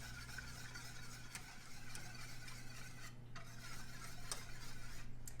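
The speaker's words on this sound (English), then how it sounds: "We're going to stir this and cook this until it starts to get thick." A spoon stirs fudge cake batter in a pot on the stove, giving soft repeated scraping and light ticking clinks, faint and steady with no talk.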